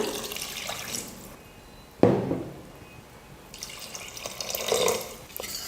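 Water is poured into a cooking pot for mushroom rice, a splashing rush that starts sharply, fades, and swells again, close by with no talking.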